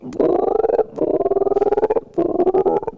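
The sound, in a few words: vocal imitation of a frog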